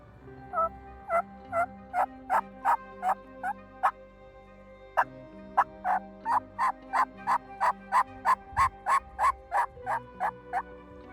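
Wild turkey calls ring out in an oak forest, two long rhythmic series of sharp, evenly spaced notes, clear and moderately close, with no speech over them.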